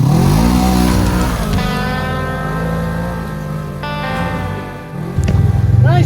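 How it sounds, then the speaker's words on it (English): Several vehicle engines rev and drone loudly throughout an outdoor park ride on Memorial Day, with rising and falling pitch as machines accelerate nearby, a brief dip before a final louder surge. "I think we'll be able to hear their engine noise"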